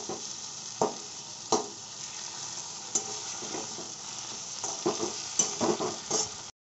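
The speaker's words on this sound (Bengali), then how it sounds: "তো এখন বসিয়ে দিয়েছে হচ্ছে এই আলু ভাজা" Potatoes and tomato fry in a pan with a steady, close sizzle, broken by several sharp scraping stirs of a spatula; no one speaks.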